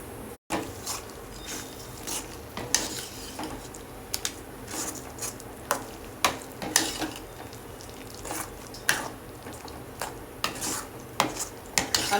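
Spinach paste stirred and cooked in a pan for lasooni palak, with repeated clinks of a spoon against the pan and scraping stir strokes at an irregular rhythm over a low background hiss, no voices.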